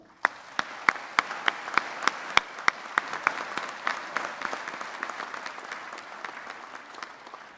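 Applause for graduates at a spring commencement ceremony, starting as a few sharp, distinct hand claps that quickly multiply into a thicker, steady patter of audience clapping.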